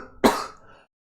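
A single sharp cough, close and fairly loud, fading quickly into silence.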